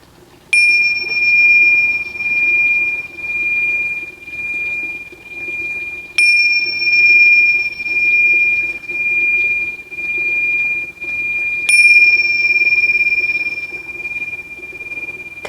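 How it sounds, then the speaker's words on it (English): Three bright chimes sound to close a yoga practice, each struck clearly at roughly even intervals and left ringing with a long, steady sustain over a quiet room. "when you hear the 3 chimes, we'll sit and close"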